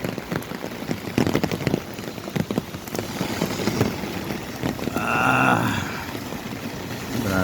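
Heavy, unceasing rain pours down in Hinunangan, Southern Leyte, a dense hiss of drops drumming on surfaces with a few louder spatters, steady and close throughout, with no voices.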